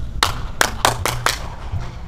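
A person clapping hands near the Ponte das Palmas in the Parnaíba delta, five sharp, loud claps at an uneven pace over a low background rumble.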